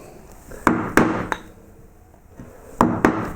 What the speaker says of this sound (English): It's getting flatter, so I'm going to change to a flatter gouge here.